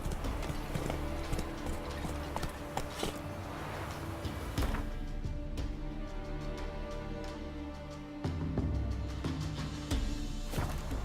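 Roach the horse galloping in The Witcher 3, steady rapid clip-clop of hooves on ground with game music and ambience underneath, continuous and fairly close.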